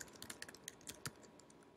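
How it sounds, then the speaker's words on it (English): Faint, quick typing on a computer keyboard, with irregular clusters of soft key clicks and no other sound. "you can do New York, the state. Alright, so that will narrow your targeting down by simply typing in the area that you want to target."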